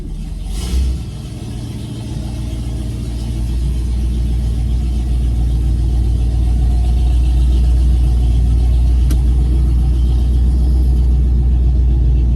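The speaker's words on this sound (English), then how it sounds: "All right, now we're gonna go for a drive." A car driving along a road after a carburetor tweak, its engine rumbling steadily and fairly loud throughout, with a brief bump of noise near the start and no talking.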